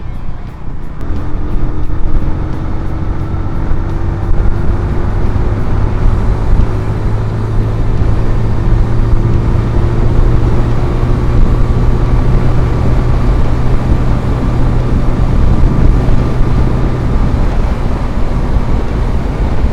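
A 2024 TVS Apache RTR 160 2V motorcycle runs at high revs on the road, its engine drone a steady rising whine under heavy roaring wind rush, loud and continuous with no talk.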